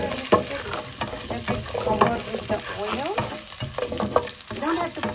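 Masala vadas made from chana dal fry in hot oil with a loud, dense bubbling sizzle, while scraping and clinking from a utensil turning them come through close and continuous, with no talking.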